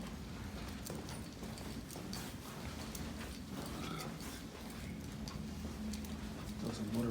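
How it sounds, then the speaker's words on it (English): Motorized window shades in a hotel run with a steady low mechanical whir, overlaid with soft irregular ticking and clicking, fairly quiet and continuous throughout. "Those are motorized shades"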